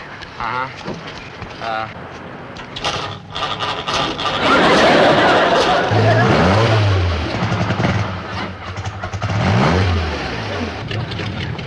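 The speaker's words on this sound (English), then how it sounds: "Get behind that wheel and start your engine." A car engine starting and then revving, rising and falling in pitch through the middle and later part, with people talking over it.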